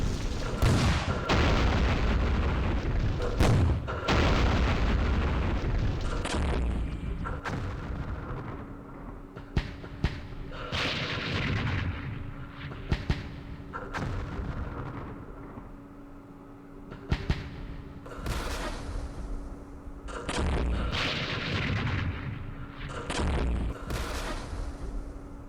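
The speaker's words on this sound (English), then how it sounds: "They have a lot of artillery." Artillery fire in the Campaign Series Vietnam wargame, Dien Bien Phu scenario: a continuous barrage of heavy booms and explosions, some close and sharp and others rolling, with a steady hum underneath and brief quieter lulls.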